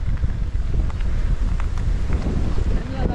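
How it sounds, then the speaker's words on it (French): Strong wind buffets the microphone in a steady, low roar throughout, with a constant rushing hiss and no other clear sounds, on a mountain-bike enduro trail in the Esterel, French Riviera. "Mais il y a du vent."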